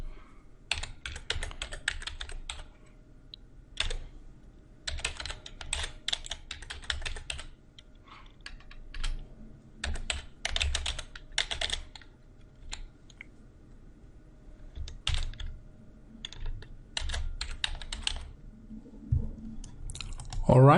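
Typing JavaScript code on a computer keyboard, with bursts of rapid key clicks separated by short pauses, close and moderately loud, and low background noise throughout.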